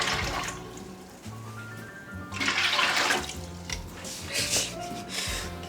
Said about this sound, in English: I'm using hot water out of the tap just to speed things up a touch.